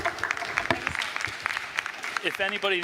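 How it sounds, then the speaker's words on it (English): After a business seminar talk, the audience gives a short round of applause, scattered claps at moderate distance while a voice speaks over them and continues at the end. "Round of applause"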